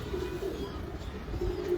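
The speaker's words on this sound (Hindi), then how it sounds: "हमरान भाई ये कबूतर अगर 1-2 बजे के बाद पलटते हैं फिर कहाँ बैठेंगे?" Breeder pigeons coo softly in low, repeated throaty murmurs, faint and close against a quiet background.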